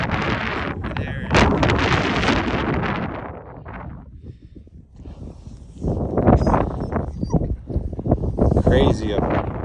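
Strong gusts of wind battering the microphone high above the needle eye tunnel near Rollinsville, Colorado, loud roaring buffets that surge, dip briefly in the middle, then return in heavy rumbling bursts.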